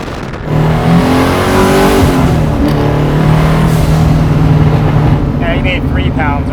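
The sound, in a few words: twin turbo muscle car engine revving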